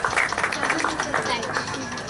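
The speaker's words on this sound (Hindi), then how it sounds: "जोरदार तालियां बजाएंगे भाई शाज़ेब के लिए।" Audience applause for a graduate at a Bible school graduation ceremony in Pakistan: brisk clapping from a small crowd, close and moderately loud, with voices mixed in beneath.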